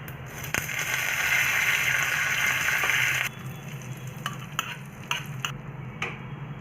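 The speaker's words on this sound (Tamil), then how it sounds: "சிவப்பு கார சட்னிக்கு கடுகு உளுத்தம் பருப்பு அப்புறம் கருவேப்பிலை போட்டு தாளிச்சிக்கலாம்" Mustard seeds, urad dal and curry leaves tempering in hot oil for red coconut chutney, a loud sizzle and crackle for a few seconds that drops to quieter spitting with sharp pops and ticks.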